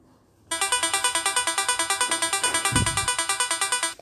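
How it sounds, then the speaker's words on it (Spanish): A harp patch from a Groovepad app sound pack plays fast repeated plucked notes in a steady even rhythm, loud and bright, with a short low thump partway through. "Este es el sonido de una arpa"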